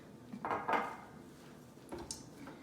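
A second cup of Irish sea moss is added to a mixture for gel, with a couple of close clinks and knocks of cup and dishware, then a fainter clatter moments later in a quiet kitchen.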